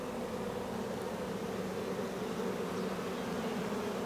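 A continuous close hum of many honey bees inside a hive, heard alone and unbroken.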